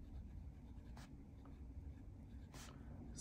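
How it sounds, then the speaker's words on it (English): Faint scratches from a Kaweco Student fountain pen with a fine nib moving across paper, a couple of brief strokes standing out over a steady low room hum. "do a quick writing sample so I can show you how this mediocre nib performs"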